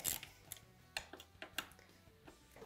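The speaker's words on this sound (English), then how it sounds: "So we're going to loosen up these 4 pinch bolts at the bottom." A ratchet loosening the four pinch bolts at the bottom of a Yamaha Raptor 700 axle bearing carrier gives a series of short, sharp metallic clicks and ticks, spaced irregularly and close by, with no talking.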